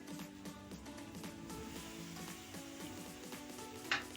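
Spice paste hitting frying onions in a pan, for a mutton curry, giving a steady close sizzle with light stirring and scraping, ending in a brief louder clatter.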